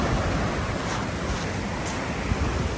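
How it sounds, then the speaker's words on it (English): Ocean waves pound against a pier with restaurants on it, heard as a steady, broad roar of surf mixed with wind buffeting the microphone. "You can just see the waves pound against"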